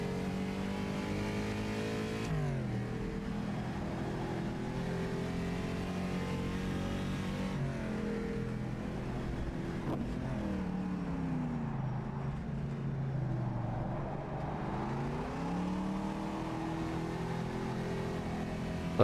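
A race car engine in Carrera Mundial 1954 at the Longford circuit revs loudly and continuously on throttle, its pitch climbing, dropping and rising again through gear changes.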